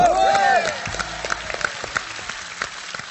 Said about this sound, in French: réserver vos meilleurs applaudissements pour celui qui est un peu le patron finalement